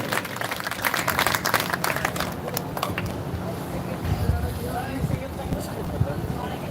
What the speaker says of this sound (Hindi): बजा दो एक बार और जोरदार ताली